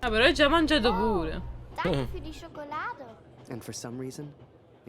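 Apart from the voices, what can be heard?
No everyday noise stands out behind the speech.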